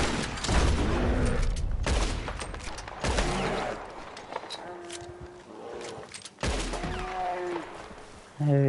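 Repeater rifle fire at a huge bear in Red Dead Redemption 2, loud sharp shots at irregular intervals, followed by ringing echoes and rumbling game ambience.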